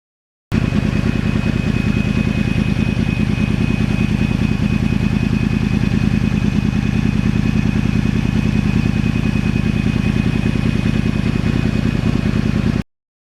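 A 2009 Yamaha R1 crossplane motorcycle with a loud custom exhaust runs continuously and close, with a steady, throbbing mid-pitched engine roar and no talk.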